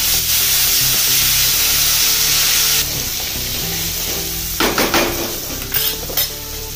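Cumin, mustard seed, ginger-garlic paste and green chili fry loudly in hot oil, a dense continuous sizzle joined later by a spoon scraping and stirring, with clinks against the pan.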